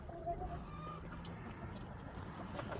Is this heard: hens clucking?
yes